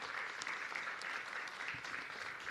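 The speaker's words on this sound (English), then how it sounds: "Let's give the National Guard a round of applause and FEMA a round of applause" An audience at a COVID-19 vaccination site in Queens applauds the National Guard and FEMA: a steady, dense wash of clapping that stays even and fairly distant throughout.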